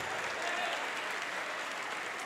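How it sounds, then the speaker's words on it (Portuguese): Sustained applause fills a church as the congregation claps together, an even, dense crowd sound with a murmur of voices underneath. "vamos aplaudir mais ao nome de Jesus"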